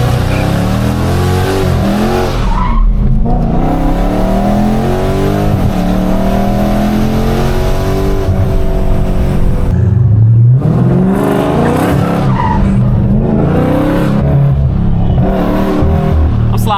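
A Dodge Charger Scat Pack, a Mustang 5.0, a BMW and a Camaro SS race, their engines roaring loud and close as they rev hard and climb through the gears in repeated surging pulls.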